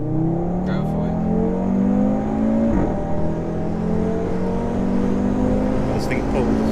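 A 2018 Audi RS3 accelerates hard, its engine note climbing steadily through the gears with a loud, close, sustained drone, while a voice speaks briefly over it.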